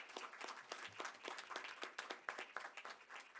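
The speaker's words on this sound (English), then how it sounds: "Let's give these young ladies a round of applause." Audience at a township council meeting applauding Girl Scouts, a steady stretch of many hands clapping at moderate distance with no talk over it.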